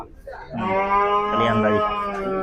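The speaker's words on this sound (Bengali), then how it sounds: "আকরাম ভাইয়ের গরু পান্নার ব্যাপারে" Cattle mooing at a busy cattle market in Bangladesh, a long, loud, droning moo that swells after a brief pause and holds steady over crowd murmur, with people talking in the background.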